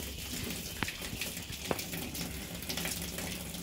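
Water drains steadily out of an Aqua Bag into a spreading puddle, a continuous splashing trickle heard close up, with a couple of brief sharper splashes.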